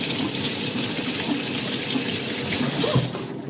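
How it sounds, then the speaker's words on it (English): Tap water runs steadily into a kitchen sink while vegetables are rinsed under it, a close continuous splashing with faint knocks of handling and no talk. "so we're going to wash this veggie"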